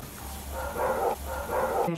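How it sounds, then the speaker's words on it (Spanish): A dog barks twice in a muffled, mid-distance manner, the two barks evenly spaced. "mira mi perro como ladra"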